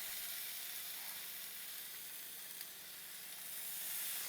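Bacon, seven or eight strips, sizzling steadily in a hot Ninja Foodi XL 6-in-1 grill on air crisp, a constant bright crackling hiss throughout with no voices.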